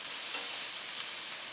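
Grilled shrimp sizzling steadily in a hot pan just after being flipped, a close, even hiss that runs unbroken and alone.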